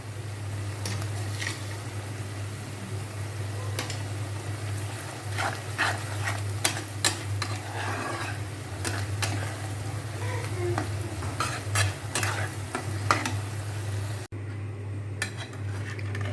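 Onions frying in oil for biryani birista, a soft steady sizzle with repeated close scrapes and clinks of a utensil stirring against the pan, over a low constant hum.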